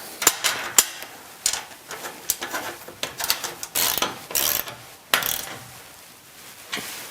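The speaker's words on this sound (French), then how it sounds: "je vais visser ici pour serrer l'ensemble" Ratchet tightening a bolt on a garage door rail bracket during installation of a StandardLine sectional door: rapid bursts of close metallic clicking with short pauses between strokes.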